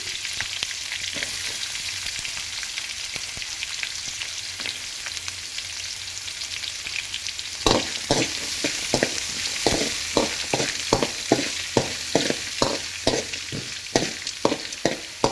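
Chopped onion and curry leaves fry in oil in a pan, a steady close sizzle throughout, joined in the second half by rapid rhythmic spatula scrapes and taps as the mix is stirred.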